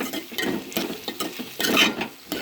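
A spoon stirs chopped okra pieces in a pan, giving repeated scraping and clinking strokes at an uneven pace, close and fairly loud.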